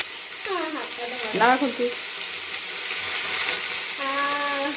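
Chicken fries in a pan with a steady, loud sizzle throughout, while someone speaks briefly over it.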